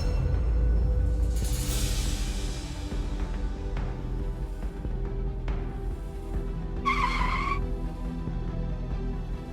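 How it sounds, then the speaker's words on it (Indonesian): A car brakes hard and its tires skid, making a rough screech that rises early and fades. A sharper tire squeal cuts through briefly later, over a steady engine and road rumble. "Apa-apaan kamu ngerem kayak gitu?"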